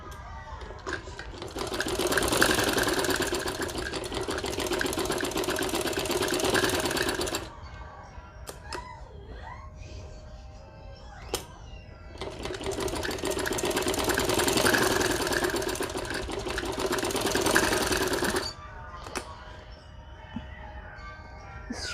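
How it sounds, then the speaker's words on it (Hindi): Electric sewing machine stitching the shoulder seams of a kurti, two long fast whirring runs of several seconds each, separated by a quieter pause with small handling clicks. "इसके शोल्डर्स में स्टिचिंग कर लीजिए।"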